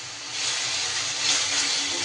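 Ground cumin and coriander spices sizzling in a hot pan, a steady loud frying hiss that swells slightly after a moment and continues unbroken.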